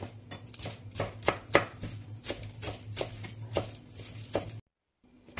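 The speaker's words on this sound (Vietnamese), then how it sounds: "Đầu hành mình để riêng, lá hành mình sắc nhỏ." A knife quickly chops green onion leaves on a board, a string of crisp evenly spaced taps close by, then a short silence.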